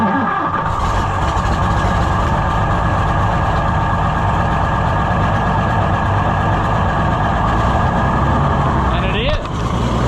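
A junkyard Oliver Super 77 tractor runs on a freshly fitted carburetor, its engine holding a steady, loud, close idle-to-fast-idle drone throughout, with a brief sputter near the end.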